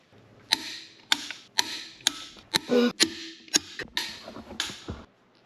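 Torque wrench clicking during a CV axle swap on a Jeep Cherokee: a run of about ten sharp, close metallic clicks, roughly two per second, with faint shuffling between them and no talk.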